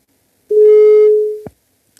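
A single steady electronic telephone ringback tone sounds for about one second, loud and clean against silence, then cuts off with a short click while a call is placed to a radio listener.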